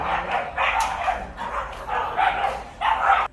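Several dog barks and yips in a row at a house, fairly close and loud, with short gaps between them and no one talking over them.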